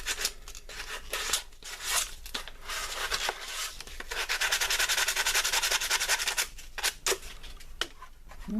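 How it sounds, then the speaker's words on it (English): Pink Kydex knife sheath being buffed, a steady abrasive rubbing hiss with brief pauses and surges, close and moderately loud with no talking. "Do a little bit of buffing, not a whole lot."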